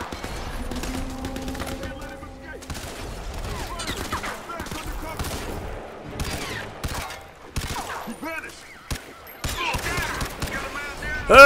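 Gunfire in the PC game Crysis 3, with frequent sharp shots and rapid bursts spread across the whole stretch amid other game noise and a voice now and then.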